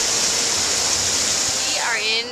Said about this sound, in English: A waterfall. Look at it.